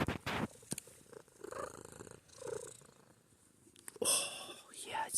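A cat purrs softly and close, a gentle rhythmic rumble running under quiet, affectionate talk and whispering, with a few brief louder bumps near the end.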